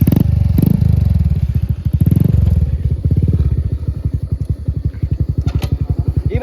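A motorcycle engine idles loudly and close with a fast, even thumping pulse, with clatter as gears are shifted; the engine is struggling to get into gear, and brief voices are heard at the start.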